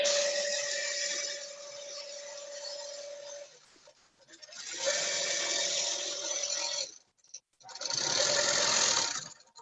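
A long-arm quilting machine stitches a quilt in three sustained runs of fast, even mechanical whirring separated by short pauses, close and loud, with no speech.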